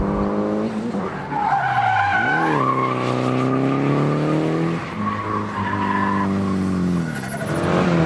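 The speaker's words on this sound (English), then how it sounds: "That is the Russian car doing some mad skids and drifts over here" A Renault-linked car drifts and skids around the Sochi F1 circuit, tires squealing in long, loud, wavering screeches over a steady engine roar, with pitch sweeping up and down through repeated slides.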